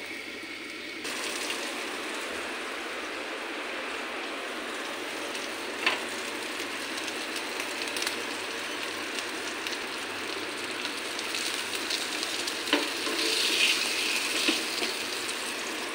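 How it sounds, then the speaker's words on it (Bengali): Tomatoes, whole garlic and green chillies fry under a lid in a covered pan, giving a steady muffled sizzle and hiss like light rain that holds evenly throughout, with faint pops and no voices. "ভাজা হয়ে যাক।"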